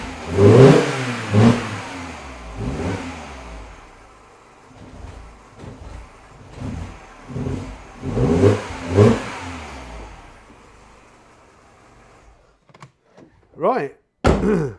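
A Mini Cooper R56 engine with a cold-start misfire gets quick throttle blips, two clusters of rising and falling revs near the start and middle over a rough idle, followed by a few sharp knocks at the end.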